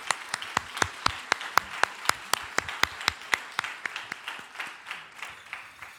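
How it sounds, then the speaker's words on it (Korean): A church congregation claps for the choir in a clear, rhythmic unison beat, crisp claps spaced evenly and gradually softening and loosening toward the end. "우리 수산나 찬양대를 위해서 우리 격려의 박수 한번 하겠습니다"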